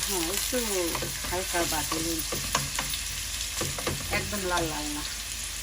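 Onions frying and being stirred in a pan while beef is being cooked, giving a steady sizzle with repeated scraping strokes of the spoon throughout, and no talk over it.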